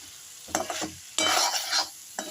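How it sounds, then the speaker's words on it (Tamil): Ginger garlic paste stirred in a pan over a low flame, a soft sizzle with a few short scraping strokes, close and alone. "அதை கிண்டணும், இல்லாட்டி நம்ம போட்ட இஞ்சி பூண்டு பேஸ்ட்னா அடி பிடிக்க ஆரம்பிச்சிடும்"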